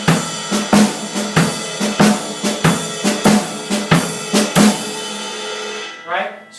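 Drum kit grooving in 7/8, a ride cymbal skip beat locked with the kick drum on a steady repeating pattern, crisp and close, ending in a cymbal wash and a final hit, with no talking.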